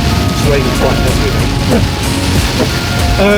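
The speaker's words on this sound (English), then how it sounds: "It's raining quite heavily." Heavy rain drumming and road roar inside a moving BMW Z4 on country roads in the Peak District, a constant loud wash with someone talking over it throughout.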